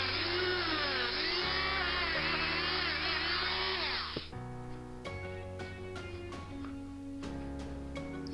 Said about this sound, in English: And there I'm polishing the bumper.